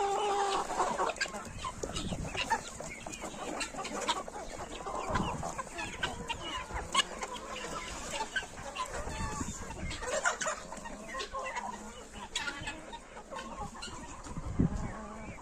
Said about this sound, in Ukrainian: Кури повиходили всі,